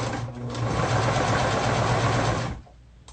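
A sewing machine runs steadily, stitching a custom guitar strap, with a close, loud mechanical whir that holds for over two seconds before stopping abruptly.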